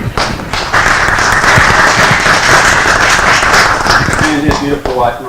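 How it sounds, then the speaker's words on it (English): Loud, sustained audience applause honors a World War II Marine Corps veteran and retired Air Force lieutenant colonel, a dense crowd roar of clapping with scattered thumps and cheers, close and continuous. "Let's give him a round of applause."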